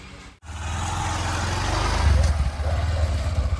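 A motorcycle engine runs after a brief silent break, a low, rough idling rumble that swells louder and pulses unevenly near the end, with little talk.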